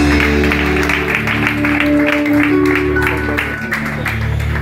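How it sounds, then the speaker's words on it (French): A church crowd at a bishop's consecration applauds and cheers steadily and loudly for several seconds, a dense sustained roar with music or a held tone underneath. "Sous vos acclamations, s'il vous plaît."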